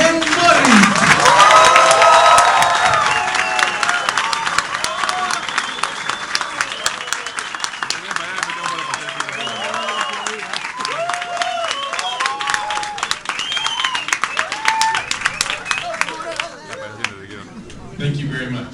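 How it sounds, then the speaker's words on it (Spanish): An audience in Peru welcomes Jim Morris with loud applause and cheering, dense clapping from a large crowd with a few shouts and voices mixed in, tapering off near the end. "quiero que recibamos con un fuerte aplauso a Jim Morris"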